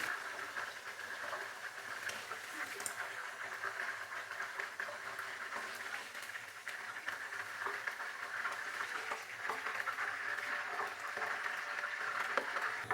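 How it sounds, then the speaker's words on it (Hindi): Chicken frying in ghee gives a steady, faint crackling sizzle that runs unbroken throughout with no voices. "चिकन को हमने 4 से 5 मिनट के लिए फ्राई कर लिया है"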